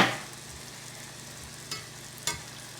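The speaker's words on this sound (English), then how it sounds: "They're going to fry up rather quickly." Churros frying in hot oil, a soft, steady bubbling sizzle at low level with two brief clicks partway through, close and with no voices.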